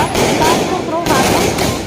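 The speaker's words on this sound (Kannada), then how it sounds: "ಅನೇಕರು ಪಟಾಕಿ ಸಿಡಿಸಿ ಸಂಭ್ರಮ" Firecrackers burst at a celebration of a prime minister's third-term swearing-in. Loud, rapid crackling volleys come in dense overlapping bursts with a brief lull midway.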